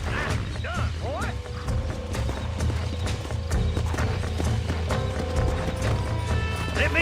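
Horse hooves galloping in the Red Dead Redemption video game, a rapid rhythmic clip-clop close up with brief whinnies and crashing game sounds, while a voice talks over it.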